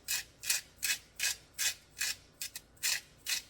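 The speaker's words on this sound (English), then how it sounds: "It's Himalayan salt that I'm using. I know I have to crank it up a bit" Himalayan salt crunches through a hand-cranked grinder in a quick series of about ten rasping, gritty turns, close and crisp, evenly spaced with a brief double stroke near the end, no talking.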